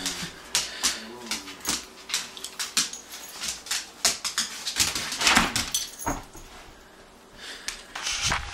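Dogs at a party give scattered barks and whimpering yelps over several seconds amid a busy room, with faint voices in the background.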